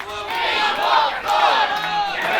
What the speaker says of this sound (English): This crowd, emphatic, coming alive for the Rumble Wrestling Champion